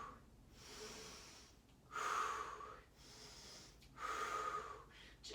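Heavy, rhythmic breathing during a yoga sculpt workout, three strong breath bursts with softer breaths between, close and alone.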